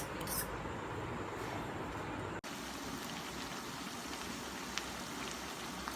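Semolina and raw potato batter snacks deep frying in hot oil, a steady dense crackling sizzle throughout with a brief break midway, no talk.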